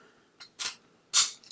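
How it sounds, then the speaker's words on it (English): Scallop-edged scissors cut around the edge of silver paper for a handmade card, giving a few short, close, crisp snips separated by brief pauses. "scallop scissors and just cut right around the edge"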